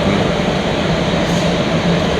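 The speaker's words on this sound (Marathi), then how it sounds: "फायनली स्टेशनवरती आलं तुम्ही पाहू शकता ट्रेनचं न्यू लुक" A Mumbai local train at Ghatkopar station, heard as a loud, steady rumbling roar of rolling rail cars close by, continuous through the short stretch with no voices.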